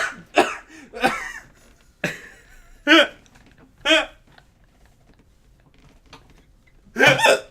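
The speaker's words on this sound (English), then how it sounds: "you made me laugh into hiccups" A person with laughter-induced hiccups gives several sharp, close bursts spaced about a second apart, with quiet gaps between them.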